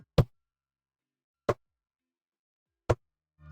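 A voice imitates the knocking call of the Australian striped marsh frog: three short, sharp, evenly spaced knocks, close and alone in silence.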